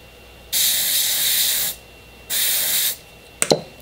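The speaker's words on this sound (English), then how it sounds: "And then I guess you just spray it directly onto the brush." Sephora Airbrush mist foundation is sprayed from the can onto a Morphe E6 kabuki brush in two loud, steady hissing bursts of about a second each, followed by a brief clatter.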